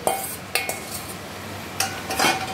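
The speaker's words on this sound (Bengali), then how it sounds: "এবার সব উপকরণগুলো ভালোভাবে একসাথে মিশিয়ে নেড়ে দেব।" Fried potatoes and prawns being stirred together in a kadai with a metal spoon, a few sharp scraping clinks against the pan at irregular intervals over a faint background hiss, close and fairly quiet, no talking.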